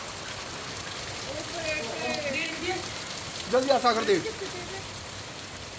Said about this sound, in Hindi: देखो कितनी तगड़ी बारिश आई है